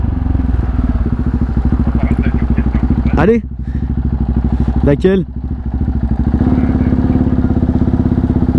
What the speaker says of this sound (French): La 790 elle lâche des sales pétards d'origine hein.